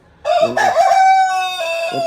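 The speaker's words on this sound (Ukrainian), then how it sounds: "Півень співає" A farmyard rooster lets out one loud, close cock-a-doodle-doo, a rising, ringing crow that holds and then trails off, with no other sounds around it.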